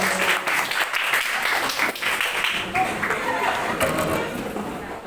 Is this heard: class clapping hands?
yes